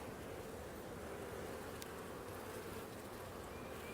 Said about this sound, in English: Lots of bees. Pretty irritated with me right now.